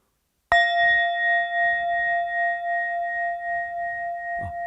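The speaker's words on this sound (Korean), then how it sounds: "벨이 울리면 손을 들고 있고 벨 소리가 끝나면 손을 내리면 됩니다." A meditation bell is struck once close by and rings with a bright, sustained tone that hums on steadily for several seconds, with a soft knock near the end and no talking.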